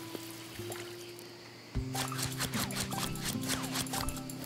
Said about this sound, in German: Hier ist auch schon wieder Gießen notwendig.